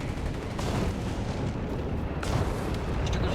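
Stuka dive-bomber barrage in Company of Heroes 3, a dense, continuous rumble of heavy explosions and booming impacts at a steady roar with a couple of sharper blasts breaking through.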